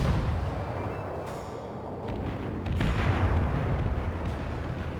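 Heavy naval guns firing in the video game World of Warships, deep booming salvos with a rolling rumble underneath, a few distinct blasts spread across the clip, with no speech.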